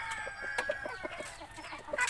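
Backyard chickens clucking close by, a string of short soft clucks and chirpy calls scattered irregularly over a couple of seconds, fairly quiet with no talking.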